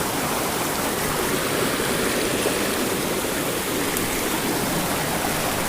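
A river rushes steadily past at close range, a loud, unbroken wash of flowing water with no voices over it.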